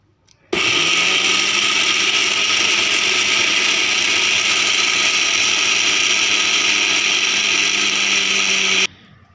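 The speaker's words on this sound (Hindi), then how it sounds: "अभी ये सारा मसाला हम ग्राइंड करेंगे।" An electric grinder whirs loudly as it grinds chaat masala spices, starting abruptly, holding a steady close roaring drone for about eight seconds, then cutting off sharply.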